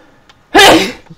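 A single sharp human sneeze, loud and close, a quick inhale followed by an explosive burst that tails off within half a second.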